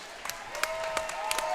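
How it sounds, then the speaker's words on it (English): Applause and scattered clapping from a crowd at an RFO Big Guns 20 fight event, honoring both competitors; a steady, moderately distant wash of clapping with a few sharper claps and a faint tonal hum running underneath. "a big round of applause for both of these RFO competitors"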